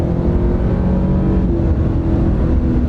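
A Toyota Tundra hybrid truck with twin turbos and electric motor boost accelerating hard, a loud, steady engine roar close by with no voices.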